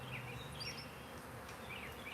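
A live honeybee swarm on a farmstead fills the air with a dense, continuous buzz, many bees droning at once with individual insects zipping past close by.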